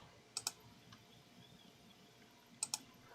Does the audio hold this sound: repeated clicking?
yes